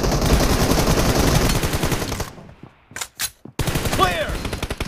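Rapid automatic gunfire crackles in a PUBG Mobile team deathmatch, a loud dense burst that stops abruptly, followed by a couple of isolated shots and then more fire.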